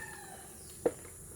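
A single short cluck from a chicken stands out once against a steady low background hum.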